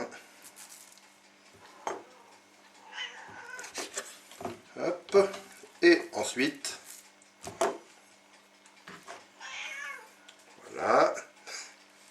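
A cat meows in a home kitchen while duck breast is being trimmed, a couple of short cries mixed among dish and cutlery clatter, with a person talking throughout.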